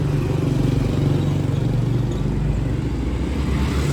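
Motorbike engines idle and rumble on a street in Laos, a steady low drone with a faint clatter at a constant moderate level and no clear speech.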